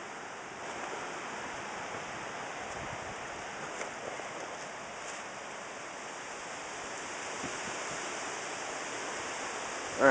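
Water poured from holes poked in a 2-liter bottle patters steadily onto tinder, imitating rainfall as a continuous, even hiss with faint splashes, no talking.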